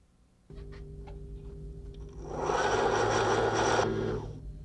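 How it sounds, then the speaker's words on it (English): A Husqvarna Rose sewing machine winds a bobbin, its motor starting with a steady hum that climbs to a louder, faster whirr for a couple of seconds before dropping back, heard close and alone. "To wind a bobbin directly from the spool, place the spool on the auxiliary spool pin."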